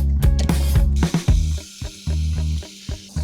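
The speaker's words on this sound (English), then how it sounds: "So what I'm gonna do is put in 3 gallons of water and we're gonna start to spray my lawn." A Petra backpack sprayer spraying water across a lawn, giving short hissing bursts that stop and restart in an uneven rhythm. It sounds close and fairly loud.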